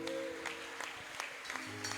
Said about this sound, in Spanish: Un aplauso al Rey de la Gloria.